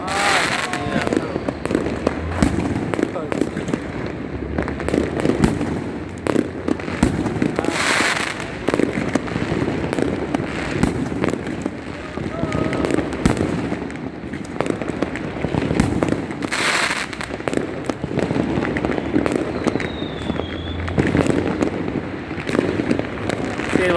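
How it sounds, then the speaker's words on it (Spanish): Dense New Year fireworks over Lima, Peru, crackle and boom almost without pause, a near-continuous barrage of bursts with louder blasts, close and loud, while people talk and exclaim nearby. "Sigue el bombardeo, sigue el bombardeo."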